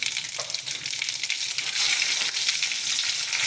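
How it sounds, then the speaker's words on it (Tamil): Chili and curry leaves sizzle and crackle in hot oil in a pan, a steady close frying hiss that swells slightly partway through, with no talking. "இது மிளகா போட்டு அப்புறம் கருவேப்பிலை போட்டுங்க"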